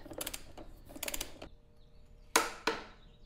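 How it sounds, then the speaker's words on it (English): Ratcheting clicks from a torque wrench tightening the rear wheel of a 2015 Yamaha FJ09 motorcycle, two quick bursts of close clicking followed by two sharp metallic snaps, with no talking. "Now torque the wheel to 108 foot-pounds as per spec."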